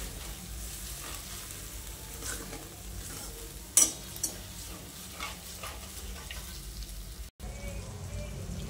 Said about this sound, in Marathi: आता आपण याला छान मिक्स करून घेऊया।